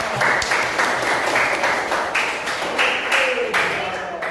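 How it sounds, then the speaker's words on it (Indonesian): A class of students gives a round of applause in a school religious-education lesson, a continuous wash of clapping filling the room for a few seconds at close range. "tepuk tangan untuk kita semuanya"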